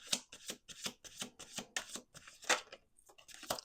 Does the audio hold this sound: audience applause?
no